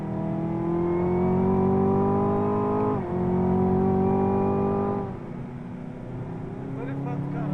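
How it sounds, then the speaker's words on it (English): A Chevy Camaro engine revs hard close up from inside the car during drifting, its rising pitch breaking briefly at a shift and then easing off, with people talking over it. "Very fast car, huh?"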